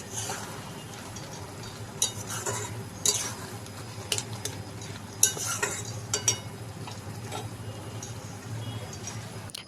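Ridge gourd, potato and poppy-seed curry stirred in a pan, with soft scraping and clinking of a spoon against the metal at irregular intervals over a low steady background hum.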